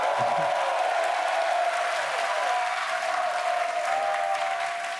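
A large crowd at the 2019 League of Legends World Championship esports event applauds and cheers steadily, dense clapping holding at an even level throughout with no speech on top.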